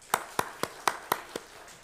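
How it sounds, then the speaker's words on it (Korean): A church congregation clapping for the choir after a hymn at Sunday worship: six or seven sharp, evenly spaced claps over about two seconds, fading slightly toward the end. "찬양대를 위해서도 한번 박수하십시다."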